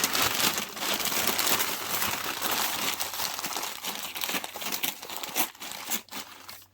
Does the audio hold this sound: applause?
no